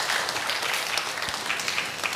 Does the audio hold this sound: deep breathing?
no